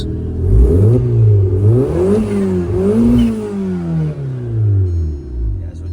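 Tuned 1.8T turbo engine in a VW MK4 revving repeatedly, several rising and falling sweeps up and down the rev range, loud and close, with a clattery idle between pulls.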